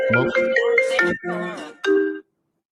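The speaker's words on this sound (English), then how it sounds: "That was Karen's phone." A mobile phone ringtone goes off during a recorded conversation with a Big Island of Hawaii realtor, playing a bright melodic tune up close for about two seconds before cutting off abruptly.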